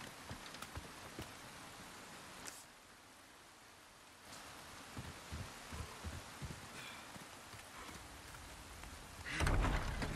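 Steady video-game rain in the Resident Evil 4 remake hisses continuously with scattered drop patters, fairly quiet, ending with a louder rumbling burst.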